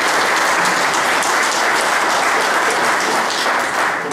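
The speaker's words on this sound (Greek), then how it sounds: "που του αξίζει ένα χειροκρότημα" Sustained audience applause at a public gathering, dense steady clapping from a sizeable crowd that stays loud and even throughout without pause.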